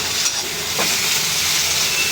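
Potatoes, carrots and eggs fry in a pan, giving a steady, loud hiss and sizzle that holds without a break, close, with no talking.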